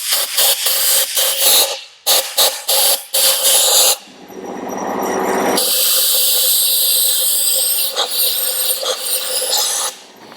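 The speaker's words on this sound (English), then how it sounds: "Then a little bit of compressed air." After a few short scraping strokes, compressed air blasts into an outboard motor's oil seal housing, first in a short hiss, then as a loud, steady rushing stream lasting several seconds.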